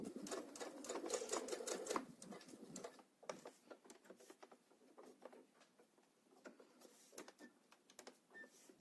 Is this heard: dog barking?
no